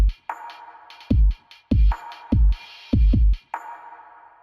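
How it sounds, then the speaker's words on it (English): A drum line made in a production session built around a Moog Minitaur: punchy low kick hits in a steady pattern alternate with crisp side-stick clicks and a hissy filtered high layer, close and alone, with no voices. "so I first started off with this drum line"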